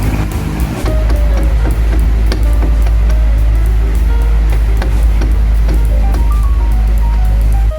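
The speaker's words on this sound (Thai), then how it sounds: "อ่าก็เสียงแบบนี้เลยครับกอกแกกๆ นะครับ" Sharp, repeated mechanical clicks from a faulty oscillating electric fan tick irregularly over a loud, steady low motor hum, close by with no talking.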